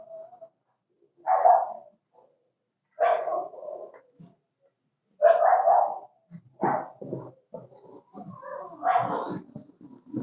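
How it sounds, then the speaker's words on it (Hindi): Dog barking in bursts at a Rajasthan home, several loud close yelps and barks spread across the stretch with short pauses, a few sounding whiny or catlike. "वो बड़ा बेकार कुत्ता भाई, वो हर टाइम जब ही भौंकेगा जब मैं वीडियो बनाऊंगा"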